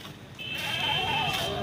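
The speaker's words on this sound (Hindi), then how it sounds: "अब्दुल्ला का बकरा है ये, एक लाख का अब्दुल्ला" A goat bleats at a busy Pakistani livestock market before Eid, the call rising and held for about a second over loud crowd murmur and nearby voices.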